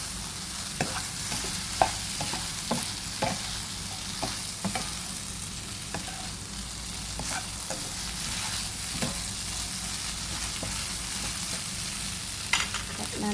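Glass noodles with egg and minced pork stir-fried in a pan, a steady crackling sizzle with scattered sharp scrapes and taps of the spatula at irregular intervals, close and continuous with no talking.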